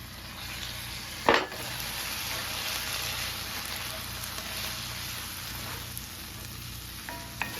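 Tomatoes go into a pan of translucent sautéed onions for a nacho topping, giving one sharp clatter followed by a steady, even sizzle of frying throughout.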